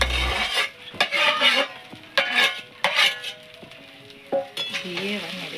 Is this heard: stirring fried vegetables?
yes